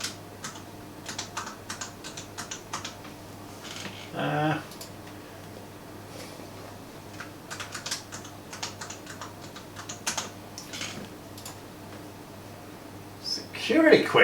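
Close, steady clatter of keys on a computer keyboard as a password is entered while setting up a freshly installed Windows 11 gaming PC, with a short pause midway and some louder taps near the end.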